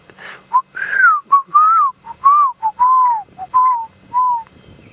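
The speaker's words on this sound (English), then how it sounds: "Beautiful, beautiful whistling call of the black-crowned shagra." A black-crowned tchagra sings a clear series of loud, mellow whistled notes, some sliding downward, spaced in a rhythmic phrase close by with little background noise.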